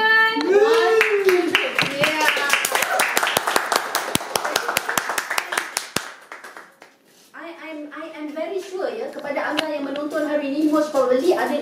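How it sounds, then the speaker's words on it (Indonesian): An audience at a live music show claps hands in a burst of rapid applause over music, which then fades into continued singing and instruments. "Semua sekali tepuk tangan."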